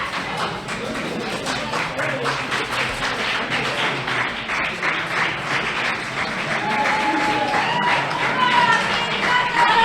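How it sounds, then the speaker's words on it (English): Crowd applause and clapping fills a fight event venue at a Friday Knight Profights card, a steady dense patter of many hands that swells slightly louder toward the end, with a commentator's voice running underneath. "Crowd applauding both fighters."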